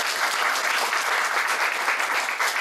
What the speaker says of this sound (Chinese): 所以我们还是先给这个叶医师再一个热烈的掌声